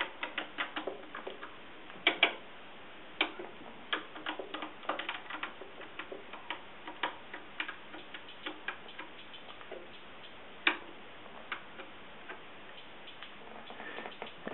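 Roland TR-808 closed hi-hat programmed in a beat pattern, heard as quiet, crisp ticking hits in a steady, fairly fast rhythm with a few louder accents, low in level and alone.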